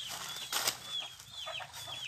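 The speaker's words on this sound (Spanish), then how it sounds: "No, a ver, los pollitos" Chicks peep on a family farm, a string of high, thin chirps repeating through the clip with a brief louder rustle midway.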